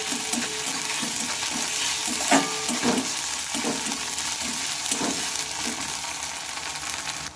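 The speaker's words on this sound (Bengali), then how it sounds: "বাটা মশলাটা দিয়ে আবার একটু ভালোভাবে আমি নেড়ে ছেড়ে নেবো" Spice paste being stirred as it fries in a pan while making begun chop (eggplant fritters), a steady close sizzle with soft repeated scraping strokes of the spoon throughout.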